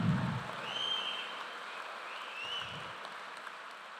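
Graduation audience applauding a commencement speaker at an honorary degree ceremony, a steady, fairly distant wash of clapping that slowly fades.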